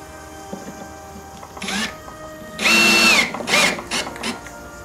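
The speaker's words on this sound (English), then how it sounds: "go around the whole board and screw up" Power drill driving screws into the edges of a wooden board for a beehive build, a few short whirring bursts of varying length, fairly close, separated by quiet workshop background.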